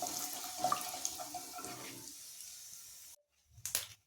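Mustard seeds and cumin fry in hot oil for sambar, making a steady, close sizzling hiss with small pops. It cuts off suddenly, then a short clatter follows.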